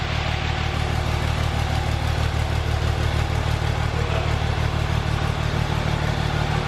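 A 2004.5 Cummins diesel pickup truck fitted with a 10mm CP3 pump and a muffler idles steadily inside a shop, giving a loud, even, low rumble with a constant rhythmic clatter and no talking.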